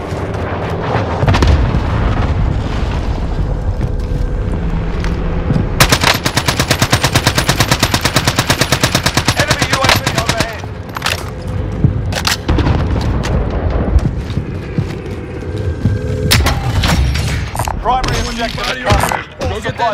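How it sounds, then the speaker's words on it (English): Sustained automatic gunfire and heavy booming explosions from a Call of Duty Verdansk battle royale match, loud and nearly continuous with dense rapid bursts and bangs, and voices talking over the combat. "somebody shooting at me from the left"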